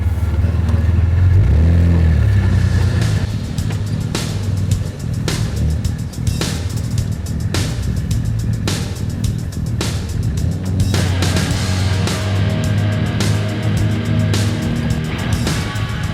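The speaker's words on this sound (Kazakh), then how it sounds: "Бул машина Jeep Cherokee Chrysler деген заводтон чыккан Америка машинасы" A Chrysler-built Jeep Cherokee with a 4-litre engine drives along, its engine rumbling loudly and steadily with a revving surge early on and clattering knocks from the body over rough ground, with no voices.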